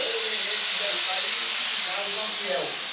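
Feijoada simmering in a pot gives off a steady, loud hiss of steam that fills the whole stretch, with faint tonal whistles rising and falling under it and a brief background voice.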